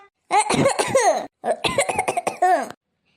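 A woman coughs hard in two harsh, rapid bursts separated by a short pause, each fit made of several strained, throaty coughs heard up close, with no other sound around them.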